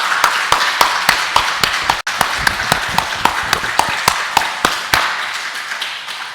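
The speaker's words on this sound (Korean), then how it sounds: "다 같이 하나님께 박수 올리겠습니다" Church congregation at a Sunday worship service claps in praise to God, firm unison beats at a quick, even rhythm over a sustained bed of scattered clapping, fading out near the end.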